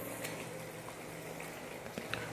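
Egg gravy in a pan coming to a boil: a soft, continuous bubbling hiss with a few faint pops, close by and quiet, with no voices.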